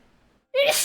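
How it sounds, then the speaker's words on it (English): A single sharp sneeze bursts out after a short near-silent pause, loud and close, following faint low murmuring. "I didn't mean to sneeze"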